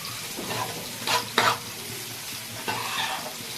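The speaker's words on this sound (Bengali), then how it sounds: "টমেটোর থেকে জল শুকানো অবধি একটু আমি ভেজে নেব। মাঝে মাঝে নেড়ে নিতে হবে যাতে তলায় লেগে না যায়।" Chopped tomatoes frying in a pan and stirred now and then to keep them from sticking, a steady close sizzle with a few scraping strokes of the spoon, no voices.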